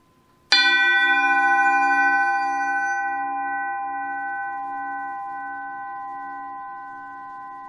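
A single struck metallic tone from a Gibson banjo's small brass tone ring rings out like a bell, bright and clear, then sustains with a long, slowly fading ring.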